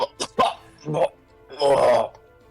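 A voice imitates coughing, several short hacking coughs followed by a longer rasping, throaty cough, close and loud.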